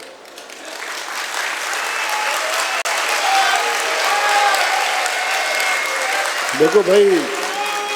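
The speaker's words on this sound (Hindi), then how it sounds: "ऐसे ही तालियां मत बजाना" Dense steady applause from a large gathering at a religious discourse in Agra, continuing throughout, before a voice briefly speaks over it near the end.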